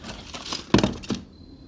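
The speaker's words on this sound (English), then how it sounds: "Some brackets." Small metal brackets clink and clatter together as they are pulled from the packaging of a Spirit Halloween animated prop, a few close, bright metallic hits in quick succession.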